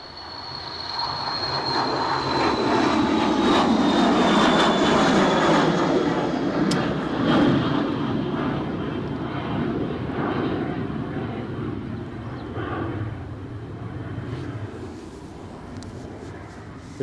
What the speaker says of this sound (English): our Cessna's moving